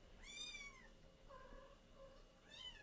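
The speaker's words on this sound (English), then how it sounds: "that's a kitten you're hearing." Small kitten giving high, thin meows as its mother carries it to another corner, two cries clearly heard, one at the start and one at the end, with softer mewing in between over faint room noise.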